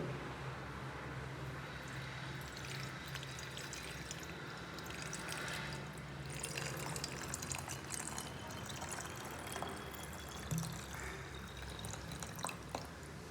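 Water pouring steadily into a vessel, a continuous trickling fill with faint drips, heard fairly quietly with no voices.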